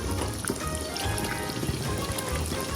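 Hot sauce and ketchup poured into a simmering marinara sauce for spaghetti and meatballs, a steady soft pouring and dribbling over continuous background noise.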